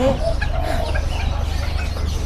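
Young laying-hen chicks, about three to four days old, at a poultry and pet market stall, cheep and peep continuously close by over a steady low hum.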